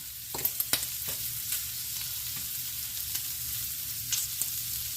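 Shrimp and green beans sizzle in a cast iron pan, a steady close frying hiss with a few sharp pops and crackles, no voices.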